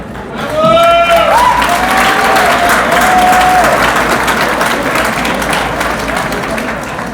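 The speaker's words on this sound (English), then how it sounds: "Ifenia, that applause, that instantaneous applause" Sustained applause from a dinner audience greets a Diplomatic Service Award recipient at an awards dinner, loud and steady for several seconds with a few faint whoops and voices rising over the clapping before it slowly tapers.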